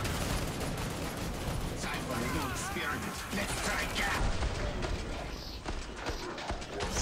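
Gunfire in Killing Floor 2 rattles steadily throughout as a dense stream of rapid shots, mixed with clattering mechanical weapon noise and game effects.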